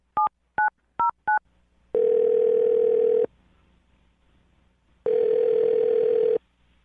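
A telephone call is placed: four quick touch-tone keypad beeps, then two long steady ringback tones separated by a pause of silence, loud and clear with no talking.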